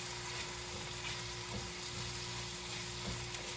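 Food cooks down in a pan on a stovetop, a faint, even sizzle and hiss with a low steady hum underneath, continuous and quiet with no voices.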